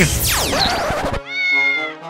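Cartoon cat meowing in an Incredibox Sprunki animation: a bright sweeping call, a short break, then a second long sustained meow, loud and close with no talk.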